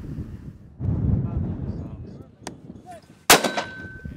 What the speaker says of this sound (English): they fired both handheld and bipod mode at targets ranging between about 350 and 600 meters